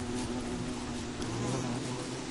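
Bees buzz steadily in the survival game Don't Starve Together, a continuous droning hum that stays even and close throughout with no talk.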